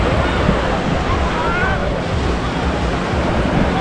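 Steady loud surf and wind roar at a crowded beach in Goa, continuous crashing sea waves with no break across the clip.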